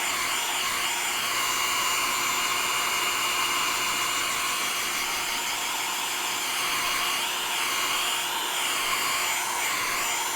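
A warm blow dryer drying chalk paint: a continuous close whirring roar with slight wavering as the dryer moves, no speech over it.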